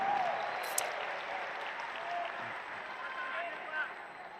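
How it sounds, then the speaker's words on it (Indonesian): Applause from a crowd of volunteers at a political speech by a politician for Amanat Indonesia, a steady roomful of clapping with a faint voice carrying over it. "Boleh tepuk tangan buat semua yang hadir di sini."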